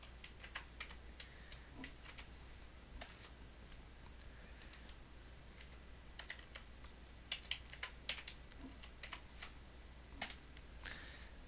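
Password being typed on a computer keyboard: quick, irregular keystroke clicks in bursts over a steady low hum, fairly close and moderately quiet, no voices.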